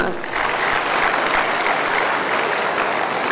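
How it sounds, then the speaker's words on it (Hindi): An audience claps loudly and steadily at a Swami Ramdev gathering on the Acharyakulam national plan, with the dense applause continuing for the whole stretch. "एक बार इनके लिए जोरदार तालियां हो जाए भाई"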